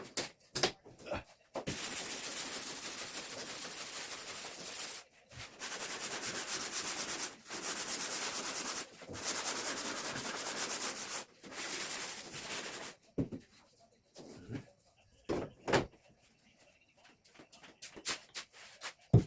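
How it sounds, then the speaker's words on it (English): Wood is sanded by hand during a Mini-Max 1030R aircraft build, giving long, steady rasping strokes in several bursts broken by short pauses, close and moderately loud, followed by quieter scattered rubbing and handling noises. "Just want to get sand. Sand again,"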